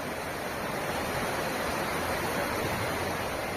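The Sindh river gushes near a bridge in a tourist village in Ganderbal district, Jammu and Kashmir, giving a steady, broad roar of rushing water that stays constant and close with no voices.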